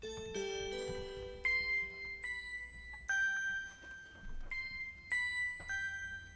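Bright synthesized bell tones ring out one after another in a slow melodic sequence, each note struck clearly and left to sustain, fairly quiet overall.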